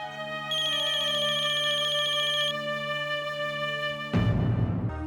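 A telephone rings steadily with a repeating electronic ringtone, loud and close, for several seconds before a louder rumbling noise cuts in at the end.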